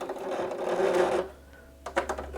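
A domestic sewing machine runs in a fast, loud whirring burst for just over a second, then stops, leaving a low hum and a few soft clicks.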